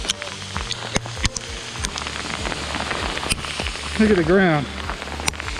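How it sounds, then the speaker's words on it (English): Pea-sized hail pelts the ground hard on a mountain trail during a thunderstorm in the San Gorgonio Wilderness, a dense, steady pattering close by, with someone speaking briefly and a short excited vocal outburst partway through. "That's all hail."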